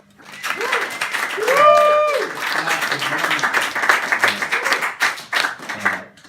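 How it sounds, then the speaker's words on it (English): Audience at a Legion stand-up comedy set claps for mothers ahead of Mother's Day, a bright burst of hand claps with whoops and cheers rising at once, then thinning into scattered claps near the end. "Clap for moms."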